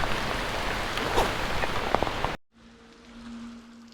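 Steady, dense rain pours down on the road between Dharmasthala and Chikkamagaluru for a couple of seconds, then cuts out abruptly to a quiet background with a low hum.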